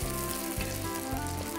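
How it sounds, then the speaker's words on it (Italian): Neapolitan fried pizza bubbles in boiling oil at about 200 degrees, a dense, even sizzle heard close up without pause. "andiamo a spingere l'olio bollente sulla pizza"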